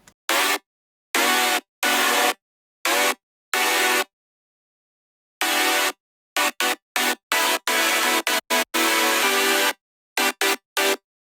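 Bright buzzy synth chords in short stabs separated by silences, the bursts coming in uneven rhythmic groups, loud and up close with no voices.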